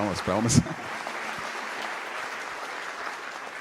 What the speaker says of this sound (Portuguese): Palmas para eles também.